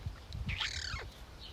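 A single pet bird gives one loud, sweeping squawk that rises and falls over low background rumble.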